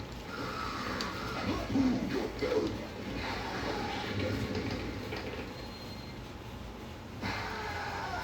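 A subway train rumbles and rattles through a fatality sequence in Mortal Kombat Trilogy, a steady low roar with metallic clatter and brief wheel screeches, loud and continuous without speech.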